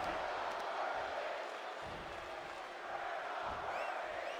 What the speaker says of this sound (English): We're not worthy chants from the crowd.